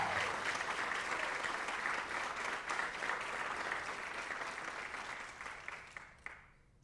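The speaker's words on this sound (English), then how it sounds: "Let's give a round of applause as she signs her letter of intent." A crowd applauds steadily at a school athletics signing day, a dense patter of many hands clapping at moderate volume, gradually fading out at the end.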